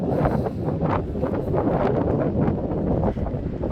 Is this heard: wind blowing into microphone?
yes